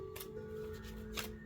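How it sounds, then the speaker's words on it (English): Tarot cards are shuffled by hand in two short riffling bursts, quiet and close, with a faint steady hum underneath. "I'll shuffle this one."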